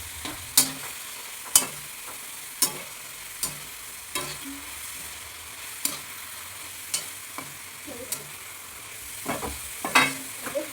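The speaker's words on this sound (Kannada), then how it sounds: "ಚೆನ್ನಾಗಿ ಮಿಕ್ಸ್ ಮಾಡಿ ಹೊಡಿಬೇಕು" Tomato masala fries in a pan as a spoon stirs and scrapes in sharp, repeated strokes over a steady low sizzle, close up with no talking.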